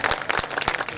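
Brief burst of audience clapping at a live stage show, a quick scatter of sharp claps close by with no talk over it.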